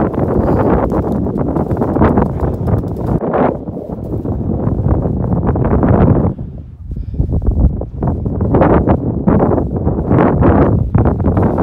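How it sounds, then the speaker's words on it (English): Steady, loud, cold mountain wind at a log cabin hut roars and buffets the microphone, easing briefly in the middle before gusting back up. "It's a little cold and windy up here."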